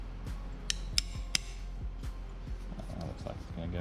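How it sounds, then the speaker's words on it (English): A hammer taps an old socket to seat a fuel pump during an E85 fuel pump install on a Yamaha R1 motorcycle; several light metallic taps at an irregular rhythm, fairly quiet, over low background noise. "Try and tap it down with the old socket over there and a hammer"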